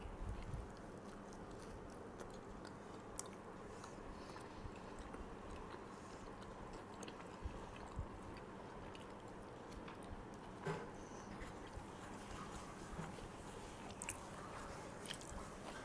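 Someone chews and bites into pav bhaji close by, producing soft, continuous squishy mastication with occasional faint crunches, quiet and steady throughout, without speech.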